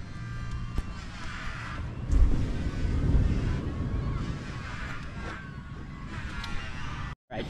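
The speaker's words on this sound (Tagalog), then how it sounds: "Ayos pa ang makina." Boat engine runs at a steady low rumble with wind buffeting the microphone and some surges, close and continuous for several seconds before a sudden brief dropout.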